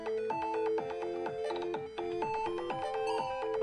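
A phone ringtone plays a synth-pop tune as a steady melodic electronic loop, clear and continuous for several seconds with no talk over it.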